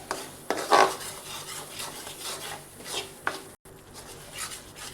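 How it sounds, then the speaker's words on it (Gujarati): A spoon scrapes and stirs through roasted wheat flour as milk is mixed in for sukhdi, with close, uneven rubbing strokes and a few clinks against the pan. "દૂધને આપણે સારી રીતે મિક્સ કરી દઈએ."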